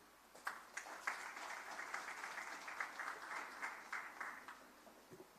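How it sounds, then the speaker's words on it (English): A town hall consultation audience applauds in a fairly distant, moderately quiet round of clapping, with many hands beating in a steady patter that holds for several seconds before tapering off. "Another round of applause for the Permanent Secretary and the team at the Ministry"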